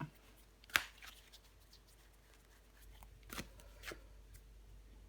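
A tarot card laid down on a table during a reading, a single crisp slap followed by a couple of softer card rustles, close and quiet over faint room hum.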